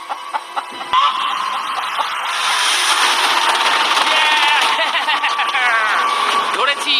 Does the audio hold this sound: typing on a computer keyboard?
no